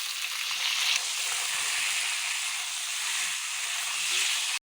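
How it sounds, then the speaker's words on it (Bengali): Mango pieces dropped into hot oil tempered with dried red chilies for aam shol, giving a steady close hissing sizzle that holds evenly throughout and cuts off abruptly at the end. "আর শুকনো লঙ্কার ফোড়ন রেখে আমটা দিয়ে দিলাম"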